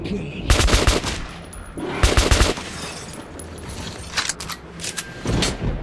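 Rapid bursts from a pellet-firing gun in Metro 2033, three loud volleys of sharp cracking shots separated by brief pauses, with mechanical rattles and clinks between them.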